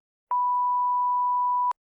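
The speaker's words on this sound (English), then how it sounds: "If so, here's your example beep" A single censor bleep at a flat pure tone, loud and clean, lasting about a second and a half with silence on either side.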